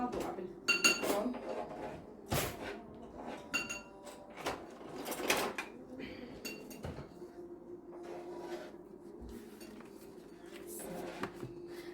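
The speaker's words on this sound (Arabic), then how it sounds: "هلا انا بحط الصينية تحتيه مشان ما اذا وقع ما بوقع بالفرن" A metal baking tray is set in an oven while baking basbousa, giving several close metallic clanks, scrapes and rattles spread across the clip, with quieter handling noise between them.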